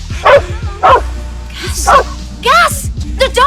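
A small dog barks repeatedly in sharp, close bursts at an uneven rhythm, loud and prominent, with brief yips between the barks.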